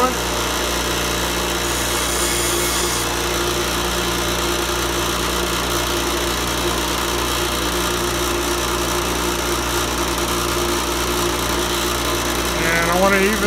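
A chisel being sharpened for locksmith work, heard as a steady, loud grinding drone that runs without a break through the whole stretch, with a person talking over it at times.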